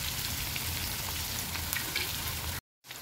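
Spiced eggplant masala sizzles and fries steadily in a pan, Vidarbha-style home cooking, a dense continuous crackle that cuts off briefly near the end before resuming.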